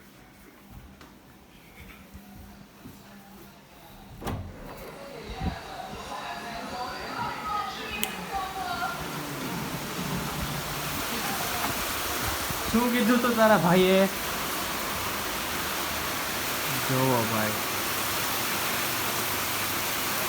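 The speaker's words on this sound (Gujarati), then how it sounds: "આજે આ વરસાદ ઊભો નથી રહેવાનો" Heavy monsoon rain in Ahmedabad pours down as a steady broadband hiss that swells after the first few seconds and holds loud throughout, with people talking over it.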